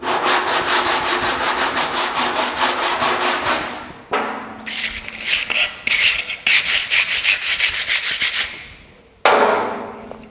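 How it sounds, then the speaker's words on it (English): Steady back-and-forth sanding strokes on body filler on a 1950 Chevy truck's rear fender, rough and rasping, with a couple of short pauses between bursts, close and loud. "even sanding in here a little bit so we scuff that up a little bit for the next coat"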